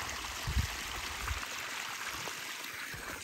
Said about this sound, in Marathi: फायनली पाणी आलेलं आहे.